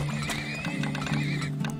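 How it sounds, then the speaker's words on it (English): Horses in the video game Turmoil neigh and whinny over steady clip-clopping hooves, a continuous loud game soundscape with layered tonal calls and no speech. "Get more horses, yeah."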